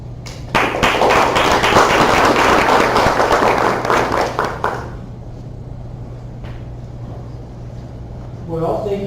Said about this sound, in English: Let's give another round of applause to our speakers.